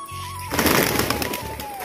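A pigeon gives a short low coo at the start and again near the end, with a burst of nearby rustling and handling noise between them, all within a couple of seconds.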